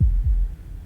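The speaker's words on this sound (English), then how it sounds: "That was the sound of a heartbeat" Heartbeat in the video game Slay the Princess, two deep, close thumps in quick succession fading into a low hum, with no voices.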